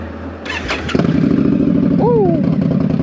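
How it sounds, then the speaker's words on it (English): An Indian Scout Rogue motorcycle with a shorty GP exhaust cranks briefly and catches, settling into a loud, close, throaty idle with a rapid pulsing beat, with a voice briefly sounding over it. "starting up the bike. Shorty GP exhaust,"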